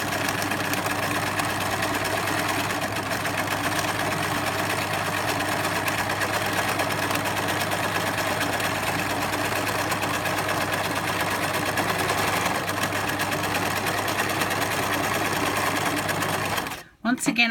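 A sewing machine zigzag stitching the fabric of a pencil case runs in a steady, continuous mechanical hum, close and even, then stops abruptly near the end.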